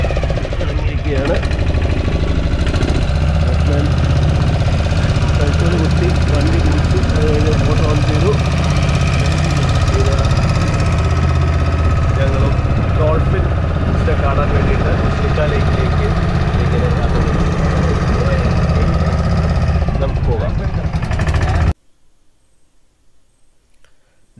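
A diesel-engined boat on Chilika Lake drones with a steady, loud, rough chug for about twenty seconds before the sound cuts off abruptly.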